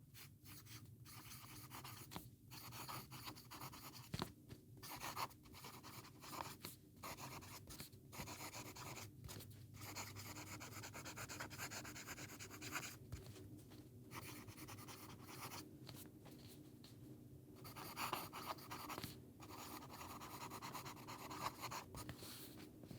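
Ranga Ebonite #3 Oversize fountain pen writing on a Rhodia dot pad, a soft, faint scratchy rustle of nib on paper in continuous strokes broken by brief pauses, heard close up and quiet.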